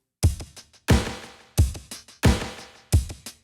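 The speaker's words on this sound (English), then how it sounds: "most of the song is primarily this loop beat" Drum loop beat from a song being mixed, with five punchy kick-and-snare hits landing at an even rhythm, each decaying quickly with lighter hits between, alone and fairly loud.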